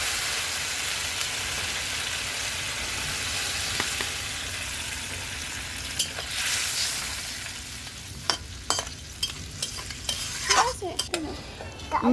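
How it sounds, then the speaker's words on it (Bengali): Fried crabs in a pan hiss and sizzle steadily as water is poured in, with stirring scrapes and sharper pops toward the end, close and fairly loud with no talk. "কাঁকড়াগুলো ভেজে নিয়েছি, এখন পরিমাণ মতো জল দিয়ে দিচ্ছি।"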